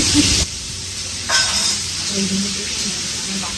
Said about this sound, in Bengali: আলুটা একটু লবণ আর হলুদে ভেজে নিই